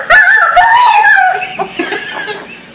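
A voice imitates a chicken caught in a fence, with a loud, strained squawking wail that wavers and then breaks into weaker, fading squeaky cries.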